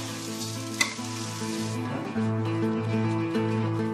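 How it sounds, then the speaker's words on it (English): Raw rice stir-fried in a wok with dried shrimp and shallots gives a steady close sizzle and scraping stir, with one sharp clack of the utensil early on and the frying swelling louder midway. "So stir-frying raw rice, basically."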